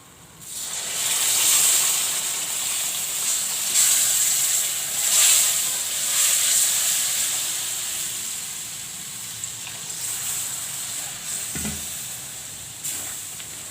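Milk poured bit by bit into roasted moong dal for halwa hisses and sizzles loudly in the pan while being stirred, a steady bubbling fry that swells and eases with each addition.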